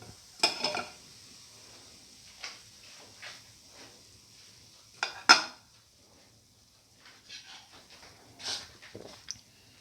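Metal pans and plates clink and clatter sparsely in a home kitchen as chili lamb fenugreek chickpea fritters are lifted out and drained of oil, with a few sharp knocks separated by quiet pauses.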